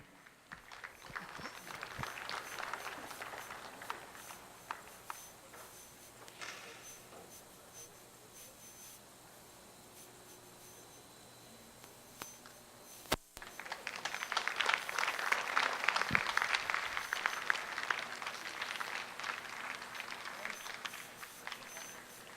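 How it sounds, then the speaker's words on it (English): Faint, distant applause from the crowd at a junior dairy cattle show honoring youth exhibitors, swelling in two broad waves with a quieter stretch between them, and a sharp knock near the middle. "give these juniors a big round of applause"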